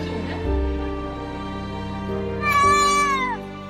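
A cat with a broken leg, brought to a hospital for a cast, gives a single drawn-out meow that rises and then falls, loud and close, over a steady low background hum.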